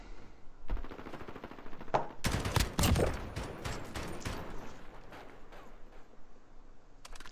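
Rapid bursts of automatic gunfire from a 5v5 tournament shooter game, several loud overlapping volleys clustered early, then sparser shots trailing off.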